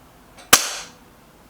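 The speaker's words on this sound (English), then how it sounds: "Last shot for the P15." A single sharp crack as an Artemis P15 air rifle fires one shot at a target, loud and close, with a brief decay afterward.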